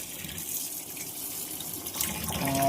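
Running tap water gushes over raw hilsa fish pieces as they are rinsed in a sink, a steady close splashing flow that grows louder near the end.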